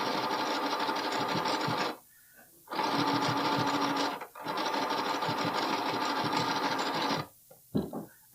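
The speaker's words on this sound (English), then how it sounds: "then we can come in here and do a top stitch" A sewing machine top stitches along the edge of a bralette in three steady whirring runs, each a couple of seconds long and separated by brief pauses, with a short burst at the end.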